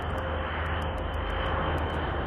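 A tiltrotor aircraft flies with its propellers turning, giving a steady, loud broadband drone with a low rumble underneath and no talk.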